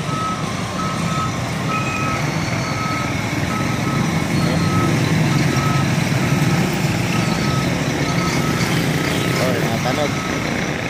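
A trailer truck backing up in heavy traffic, its reverse alarm beeping steadily over a loud engine rumble, with voices talking throughout.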